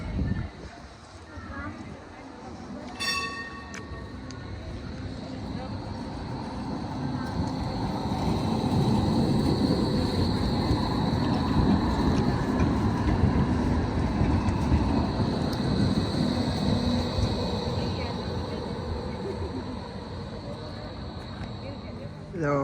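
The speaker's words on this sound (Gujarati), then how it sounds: "ટ્રામ આવે છે" A tram on a street in Germany rolls past with a broad, building rumble that swells and holds for most of the stretch, a brief metallic ring early on, and people talking faintly over it.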